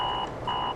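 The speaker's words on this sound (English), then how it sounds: "The alarm keeps buzzing," An alarm in an advertisement sounding two short electronic beeps in quick succession, a thin, steady tone over a faint background hum.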